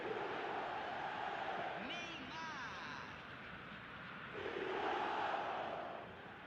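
eFootball 2026 stadium crowd roaring after a goal, with a loud swell of cheering, whistles and chants that dips briefly and then surges again.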